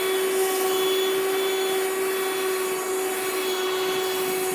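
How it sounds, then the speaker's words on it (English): Power sander working across the top of a wooden workbench, a steady close-up whine with a constant tonal hum and gritty abrasive rush holding at an even level throughout, with no talking. "first I'm going to sand it so that it's a little bit smoother and a better work surface"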